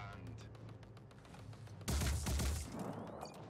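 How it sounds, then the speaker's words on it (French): A rapid burst of small one-handed submachine gun fire in the tactical video game Phoenix Point, a dense loud fusillade erupting suddenly after quieter scattered clicks and ambience, then trailing off into a softer tail. "Je dirais une petite mitraillette, genre à une main peut-être."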